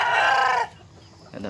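A large Bangkok/Saigon breeding rooster with a giant blade comb and bare neck gives a loud, close vocalization for about half a second, followed by quieter farmyard background.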